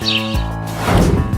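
Small birds chirp in quick, sweet bursts over a steady musical background, fairly close and clear.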